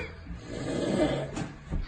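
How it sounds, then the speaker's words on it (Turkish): One drawn-out snore from a young person, a soft, rough rasp of breath that swells and fades over about two seconds, faint and close. "Yedi genç arkadaşlarının horlama sesine ritim uydurdu"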